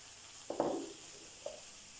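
A few soft crackling hisses as rinsed rice drops into a hot frying pan with vegetables, two brief bursts over a quiet background with no talking.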